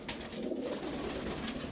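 Pigeons coo softly in a loft, a low, continuous murmuring burble under steady background noise, close and unbroken, with no talking.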